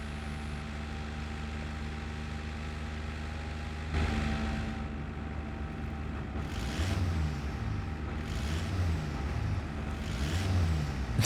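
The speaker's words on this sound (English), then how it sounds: "The engine audio is just absurd." A truck engine in the off-road driving game Snowrunner drones steadily, then rises and falls in three repeated revving surges toward the end, with no talking over it.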